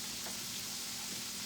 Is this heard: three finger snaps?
no